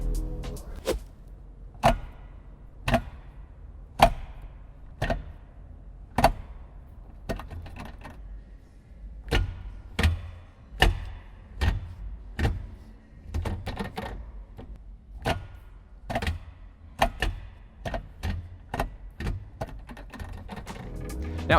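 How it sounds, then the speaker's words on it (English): Short shifter in an FT86 car snapping through gears, a run of crisp, notchy mechanical clicks and clunks spaced irregularly, close and fairly quiet against a silent cabin. "our new short shifter has very short and notchy throws. You can even tell an audible difference between the two."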